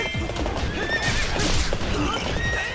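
Horse neighing and whinnying in the Hyrule Warriors video game, mixed with steady clip-clop hoofbeats and busy battle sounds throughout, fairly loud and continuous.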